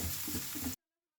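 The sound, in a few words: spice powders being mixed in a hot pan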